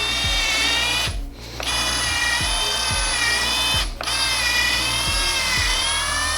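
A SKIL PWR CORE DL6300D-11 flip drill on first speed slowly drives a screw, with a steady high motor whine and rhythmic ratcheting clicks, briefly dipping twice as the load changes, close and alone.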